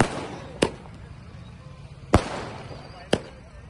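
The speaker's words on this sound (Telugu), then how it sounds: "టపాసులు, బాణసంచా కాలుస్తూ సంబరాలు చేసుకున్నారు" Firecrackers and fireworks set off at a celebration in Kodangal, Telangana: three sharp, separate bangs at irregular intervals, each loud and snapping, with a faint rumbling background between them.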